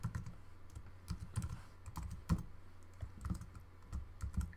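Someone types code on a computer keyboard, close by, with irregular bursts of clicking keys and short pauses in between and no speech.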